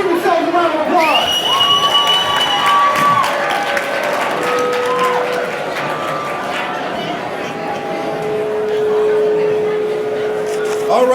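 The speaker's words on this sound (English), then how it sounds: "you guys give yourselves a round of applause." A crowd at an MLK Day of Service event in Arkansas applauds and cheers loudly and steadily, with shouts and whoops from children rising over the continuous clapping.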